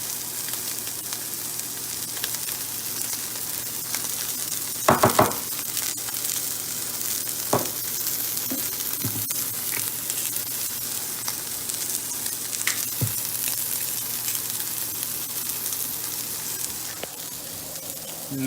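Seasoned pork chops searing in a frying pan, a loud, dense, unbroken sizzle holding steady throughout, with a few brief knocks and clatters from the pan along the way.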